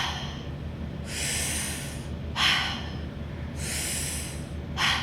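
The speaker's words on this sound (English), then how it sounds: "we're going to take 30 breaths of short, sharp inhales and exhales through the mouth" Short, sharp breaths are pushed through the mouth during a yoga breathing exercise, four close breathy bursts separated by quieter gaps, over a low steady background hum.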